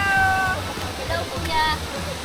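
Water rushes steadily at Susod Miso Falls, a loud, continuous broadband roar of falling water, with people's voices speaking briefly over it.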